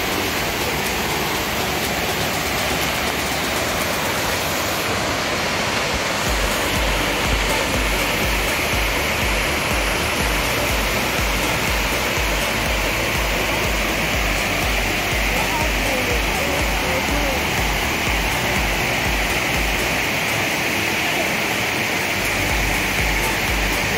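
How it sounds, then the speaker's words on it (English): Dunn's River Falls in Ocho Rios, a waterfall cascading down a river, roars as a loud, dense, unbroken rush of water that fills the whole scene. "So check it out, Dunn's River Fall."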